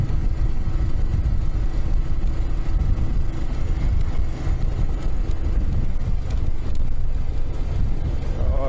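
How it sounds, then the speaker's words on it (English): Steady wind buffets the microphone while a vehicle drives a dusty outback track near Coober Pedy, a continuous low rumble of engine and road noise running throughout with no pauses. "the wind's blowing across so we don't cop all the dust"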